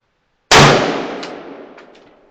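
A single loud rifle shot fired at a target outdoors cracks sharply and then trails off in a long fading echo, with a couple of faint distant reports following.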